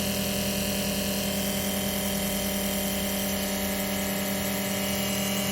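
An AUTOOL fuel injector cleaner pump runs under test, a steady mechanical whine and hum that holds at an even level throughout, with no talking.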